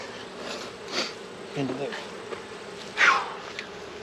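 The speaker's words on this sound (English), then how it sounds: "These bees that are on the top cover that I just blew into oblivion will go" Honey bees buzzing around an opened hive after the top cover is blown off during a honey harvest, a continuous close swarm drone with louder passes as bees fly near, and a voice speaking briefly.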